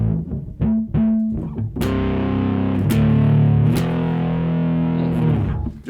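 A Traveler TB-4P travel bass played through a second, aggressive saturation effect: a few plucked notes, then heavily distorted sustained chords with sharp attacks, loud and close.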